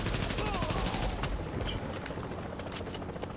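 Gunfire in Tom Clancy's The Division beta, a dense burst of rapid shots in the first second and a half that eases into scattered, quieter pops, with faint voices in the mix.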